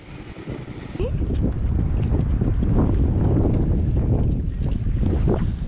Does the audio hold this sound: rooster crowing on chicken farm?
no